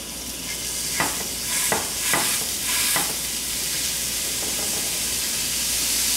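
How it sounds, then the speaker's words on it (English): Loud, steady sizzling of burger patties frying in a hot pan, with a few sharp crackles and scraping sounds early on as they're pressed down. "You hear the sizzle, James?"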